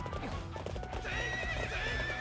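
Evil Epona, the dark horse ridden as Dark Link in the Hyrule Warriors HD video game, gallops with rapid clip-clopping hooves and gives a loud, drawn-out whinny among game sounds.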